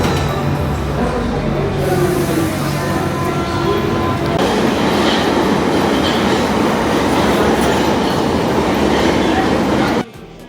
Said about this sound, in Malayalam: നമ്മുടെ ട്രെയിൻ 4 മിനിറ്റിനുള്ളിൽ എത്തും